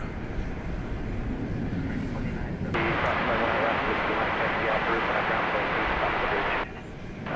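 At DFW Airport under overcast skies, a jet airliner departing for Louisville produces a steady broad roar from a distance, with the rumble holding level throughout.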